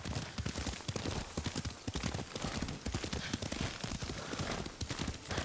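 Horse hooves clip-clop at a riding pace in the video game Ghost of Tsushima, a quick, steady rhythm of hoofbeats with a faint rumble of gunfire-like thuds mixed underneath.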